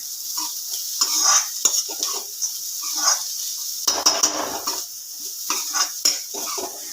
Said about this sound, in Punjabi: ਬਸ ਇਹਨੂੰ ਵੀ ਹਲਕਾ ਜਿਹਾ ਭੁੰਨਣਾ ਹੈ 2 ਮਿੰਟ ਇਹਨੂੰ ਇਦਾਂ ਹਲਾ ਕੇ